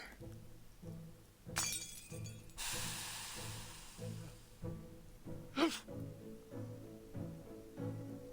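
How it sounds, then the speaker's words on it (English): In the game Reverse: 1999, a potion bottle smashes on the floor with a sharp glassy shatter followed by a long spraying hiss, set over a soft repeating musical pulse, with a second brief crash later. "The potion Sotheby smashes on the floor has taken effect."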